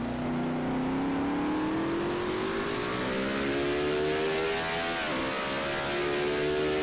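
A NASCAR-style race car in a racing video game at the Yas Marina circuit, engine roaring loud and steady as the pitch climbs through the gears, with a brief dip at a shift before rising again.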